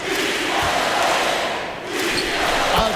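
Home crowd cheering in an NBA 2K24 basketball game between the Los Angeles Clippers and Brooklyn Nets, a steady broad roar of fans that dips briefly midway before swelling again.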